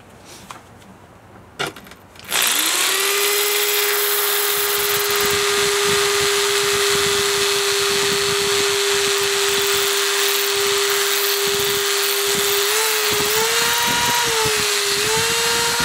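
A Dremel rotary tool fitted with a bit scores ceramic tile in a steady, loud, high-pitched whine that runs continuously after a few short starts, its pitch dipping slightly as the bit bites into the surface.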